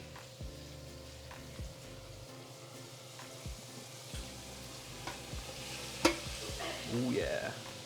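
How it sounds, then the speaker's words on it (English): Steady frying sizzle from a pan of chili oil with onions and chilies, a few soft clinks and scrapes, the hiss growing louder and more crackly toward the end. "That's a good sizzle."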